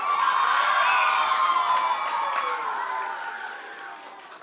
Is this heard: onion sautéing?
no